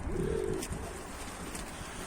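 Tumbler pigeon of a Van breed lineage cooing in a short soft burst at the start, followed by faint outdoor background noise.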